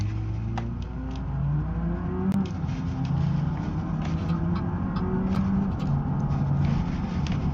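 A Skoda Kodiaq SUV drives in BeamNG, its engine a steady, moderate hum that rises and shifts through gears, with faint tire and road noise and occasional clicks.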